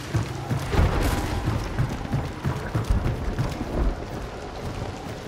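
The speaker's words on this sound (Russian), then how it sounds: "Дождь усиливается." Steady rain pours in the Hunt: Showdown game, a dense continuous hiss with low rumbling thumps underneath, fairly loud and even throughout without talk.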